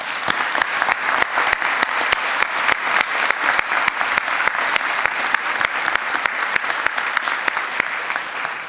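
Sustained, loud applause from a crowd at an annual town meeting, many hands clapping steadily and evenly throughout with no talk over it.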